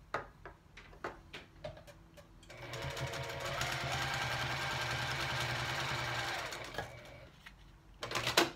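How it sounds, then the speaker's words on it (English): Sewing machine stitching through the batting side of a bowl cozy runs in a steady whirring burst of several seconds, framed by light handling clicks and taps before and after. "because I'm going to be sewing on the batting side"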